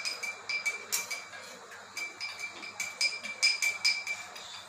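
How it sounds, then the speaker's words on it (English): A spoon clinks steadily against a glass while sugar is stirred into lemon sharbat, a quick run of bright, close chimes over a faint background. "Mix it well till the sugar dissolves"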